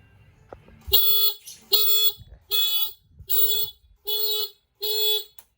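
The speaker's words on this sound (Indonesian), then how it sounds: "5 detik alarm berbunyi dan motor dan sen hajar menyala seirama dengan suara alarm." A loud electronic anti-theft alarm on a 2025 Honda Scoopy motorcycle sounds in six evenly spaced bursts, each a steady buzzing tone lasting about half a second, close and alone.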